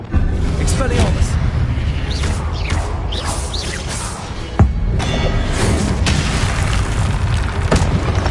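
Booming, whooshing spell effects from an Expelliarmus cast in a Hogwarts video game, continuous and loud, with a sharp crash midway, and a voice speaking over the action.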